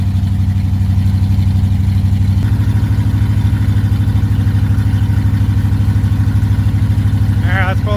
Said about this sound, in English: You're running like an old International tractor. Just chugging along.